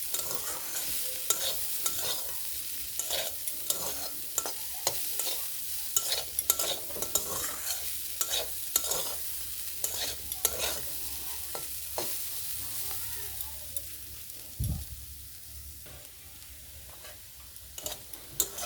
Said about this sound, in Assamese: মই 2 পৰা 3 মিনিট টাইম দালিখিনি ফ্ৰাই কৰি ল'লোঁ